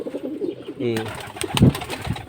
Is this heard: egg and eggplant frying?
no